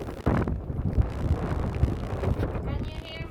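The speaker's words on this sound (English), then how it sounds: "It was pretty windy outside." Rough, gusty wind buffets an outdoor Ring floodlight camera microphone in low rumbling bursts, with faint voices partly buried underneath.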